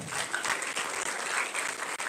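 Dense applause from a university freshmen orientation audience, steady and fairly close, with many hands clapping at once throughout.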